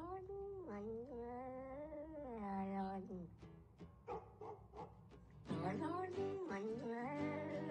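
Cat meow samples arranged into a song, with pitched, wavering meows stretched into sung melodic phrases over a backing track, sometimes in quick choppy bursts, fairly loud and continuous.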